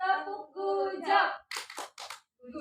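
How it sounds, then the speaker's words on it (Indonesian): A third-grade class claps a rhythmic pattern of quick, sharp claps while chanting along in unison. "kita beri tepuk gujap untuk kelompok 2"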